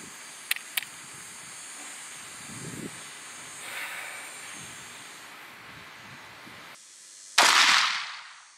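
Gunshots fired at a 16TB Seagate IronWolf Pro hard drive in a backyard: two sharp cracks early, then a long quiet stretch with faint rustling, and a final loud blast with a decaying hissing tail.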